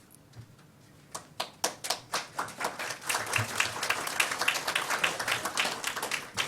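Scattered clapping from a convention audience: a few isolated claps at first, then more hands join in sharp, uneven claps that build into moderately loud applause.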